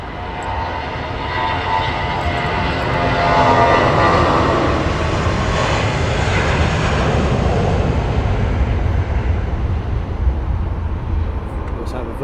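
A United airliner taxiing out for departure at Heathrow Airport produces a loud, broad jet engine roar that swells and holds steady throughout, with a voice talking over it.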